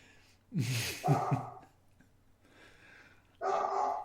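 A dog barks in a quick burst of three or four sharp barks, then lets out one more after a short pause.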